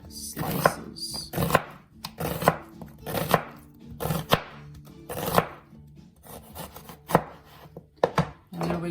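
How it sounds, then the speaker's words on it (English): A Rachel Ray knife slices an onion thinly on a board, giving a steady series of crisp chopping strokes, roughly a dozen sharp close knocks at an even rhythm with no talking. "with my Rachel Ray knife, which is fabulous, I'm just gonna cut nice, thin slices."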